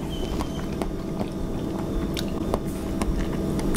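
Pork skin jelly being chewed close up, soft wet squishes and occasional crisp clicks of the teeth in an irregular rhythm over a low steady background.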